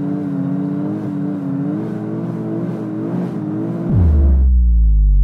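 A tuned Volvo 740 making over 1000 hp idles with a steady, loud engine drone, then accelerates hard near the end with a sharp rising roar.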